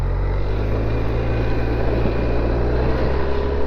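A Honda Silverwing scooter engine drones as the bike pulls away, a loud, steady, smooth hum that holds without breaks and has no talk over it.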